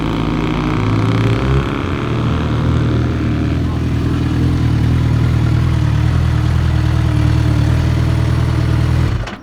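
A motorcycle engine runs at a steady, loud low rumble up close, holding an even idle before cutting off abruptly at the end.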